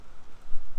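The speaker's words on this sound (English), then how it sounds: "The rain really is coming in." Rain blowing in over an estuary, a steady outdoor wash of drops and gusty noise at moderate, uneven loudness, with no voices.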